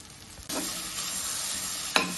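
Mango thokku fries in plenty of oil with a steady, hissing sizzle while a spatula stirs it, making two distinct scraping clatters over the constant crackle. No one speaks.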